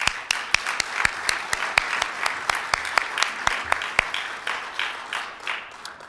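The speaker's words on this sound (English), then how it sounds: "Let's give all of these well-qualified candidates a round of applause." A Rotary Club meeting audience gives a steady round of applause for the club officer candidates, dense clapping with sharp individual claps standing out and slowly thinning toward the end.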